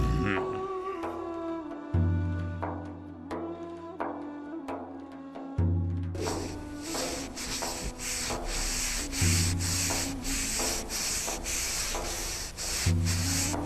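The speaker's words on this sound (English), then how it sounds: "the Roman ones were polishing and shining the walls" An animated story's sound effect of walls being polished and shined: repeated rhythmic rubbing strokes, close and fairly loud, over a steady musical background.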